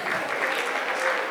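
A live comedy audience breaks into dense, sustained clapping, a loud continuous wash of hands from a crowd.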